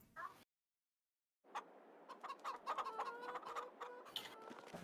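Several chickens cluck and chatter continuously in a busy, quiet cluster in Farming Simulator 22, after a brief silence, with sharp overlapping clucks.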